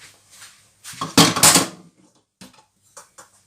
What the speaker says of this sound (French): Et on va venir mettre un couvercle.